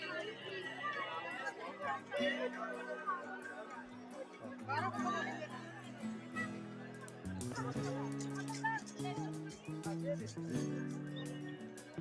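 A crowd murmurs at the Golden Temple, a steady babble of many voices with occasional laughter, overlaid by sustained tonal sounds, with a nearby person talking at moments.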